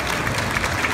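An audience claps for models at a lolita fashion show, a brief burst of dense, even applause from a crowd.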